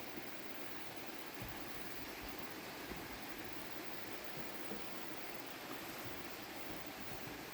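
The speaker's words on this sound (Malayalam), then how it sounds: "നമ്മുടെ സ്ഥലത്തിൻ്റെ സൈഡിൽ കൂടെ തന്നെ വലിയൊരു തോട് ഒഴുകുന്നുണ്ട്" A large stream running beside a rural plot suited to cardamom farming gives a faint, steady rushing of flowing water, continuous and unbroken, with no voices.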